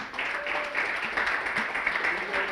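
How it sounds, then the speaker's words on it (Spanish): Church congregation clapping together during a Spanish-language sermon, a steady dense patter of hand claps lasting the whole moment with faint voices mixed in. "¿Por qué no le da una ofrenda de palmas?"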